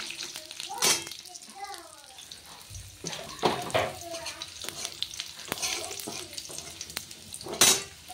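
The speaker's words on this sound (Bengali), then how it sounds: "তো দেবো এর মধ্যে কুমড়ো পাতাটা, একটু ভেজে নিই ভালো করে" Freshly picked pumpkin leaves fry in a pan, a crackling sizzle broken by stirring scrapes and clatters, with a voice talking at points over it.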